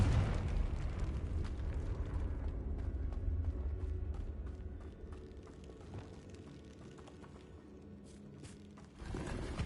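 A Confringo fire-blast spell in the Hogwarts Legacy video game: a low, rumbling explosive roar with crackling debris that fades to a softer rumble and swells again near the end, all fairly quiet.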